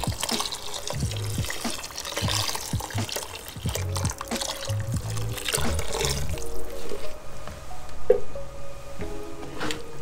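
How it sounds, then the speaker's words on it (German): Vegetable broth pours into a Dutch oven holding stirred pork roast ingredients in dark beer sauce, a steady liquid splash and trickle with scattered clinks, close and fairly loud. "kommt jetzt noch ein bisschen Gemüsebrühe dazu."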